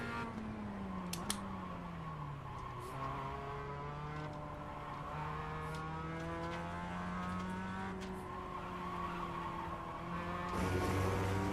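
Mazda race car lapping Oulton Park circuit, engine droning steadily with pitch rising and falling through gear changes, close and loud throughout with a brief louder burst near the end.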